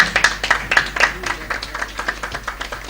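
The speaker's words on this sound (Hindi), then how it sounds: "जोरदार तालियों से।" Applause breaks out at a prize distribution ceremony during a memento presentation, a brief patter of several hands clapping in a loose, uneven rhythm that quickly thins out.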